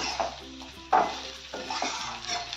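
Dry stuffed brinjal being stirred in a pan, a low sizzle under a few distinct scrapes and knocks of a spoon against the metal, close up and brief with no voices.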